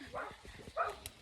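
A dog barks in a video game, giving two short yapping barks about half a second apart, heard briefly over faint background sound.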